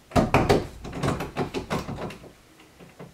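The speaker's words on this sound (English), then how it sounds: "Why is my door locked?" Locked bedroom door tried and rattled, a burst of loud, rapid knocking and handle clatter that repeats in uneven bangs before trailing off into fainter taps.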